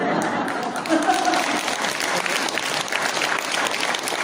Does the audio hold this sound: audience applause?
yes